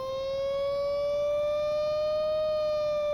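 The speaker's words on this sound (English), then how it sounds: "we get some fairly authentic sirens" An antique fire truck's siren in the game Stormworks wails as a steady, loud, sustained tone that rises slowly in pitch, alone without talk.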